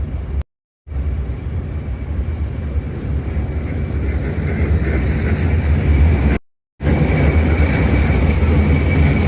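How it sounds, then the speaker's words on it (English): An old Russian tram passing on a street in St. Petersburg gives a loud, steady rumble of wheels and motor up close, continuous for several seconds with two brief cutouts and no talking. "This is one of the old Russian St. Petersburg's trams."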